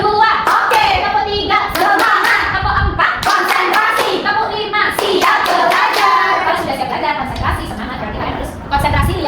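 Young children in an early-childhood classroom clap along in the rhythmic tepuk konsentrasi clapping game, a steady run of group hand claps mixed with chanting and a teacher's voice throughout.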